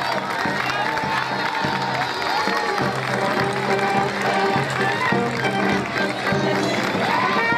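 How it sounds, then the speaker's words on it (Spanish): Spectators at a civic-military parade in Pelarco applaud a marching group, a busy crowd noise of clapping and cheering mixed with band music and movement, loud and continuous throughout. "Fuerte el aplauso para los amigos del grupo Conservando Tradiciones"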